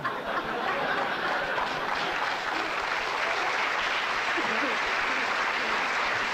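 A studio audience at a 1979 Tonight Show taping claps loudly and steadily throughout, with dense, sustained applause.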